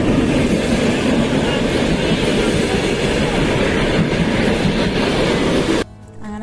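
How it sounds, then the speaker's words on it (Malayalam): Loud, steady rumble and clatter of a passenger train pulling into a station in Ukraine, wheels rolling continuously close by before the noise drops off abruptly near the end. "അങ്ങനെ കുറേ നേരം വെയിറ്റ് ചെയ്ത് ഫൈനലി ഞങ്ങളുടെ ട്രെയിൻ വന്നു."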